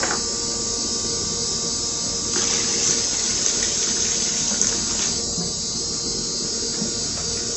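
Water poured out of a pail into a drain, a steady rushing splash that swells louder partway through and then eases, with no talking, heard while flushing the heater core of a 2012 Chrysler 200 3.6 with no heat.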